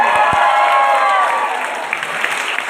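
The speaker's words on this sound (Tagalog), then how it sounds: "Paano naman po ako gagalahan kung walang palakpak?" Applause from a crowd at a gay beauty pageant in a comedy bar, steady and loud throughout, with voices and cheering mixed into the clapping.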